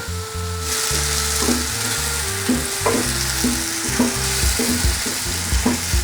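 Strawberries heat in a hot pan with a steady frying sizzle, soft stirring clinks and scrapes scattered throughout; no talking.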